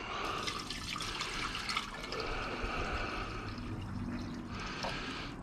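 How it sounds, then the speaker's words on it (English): Tap water poured into a lab beaker to half fill it for dissolving crystals during gold recovery from high-grade pins: a quiet, continuous trickling and splashing stream with faint drips and no talking. "I'm going to like half fill the beaker to try and dissolve all these crystals"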